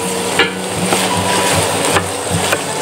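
Boiled minced meat frying with onion in a pan: a loud continuous sizzle broken by regular scraping stir strokes of a utensil against the pan, close and without talk.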